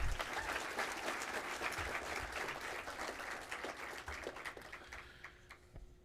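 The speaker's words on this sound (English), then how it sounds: "So give them a great big round of applause as well." An audience applauds at a foundation donor recognition and awards presentation, a dense, steady wash of many hands clapping that carries on for several seconds and thins slightly toward the end.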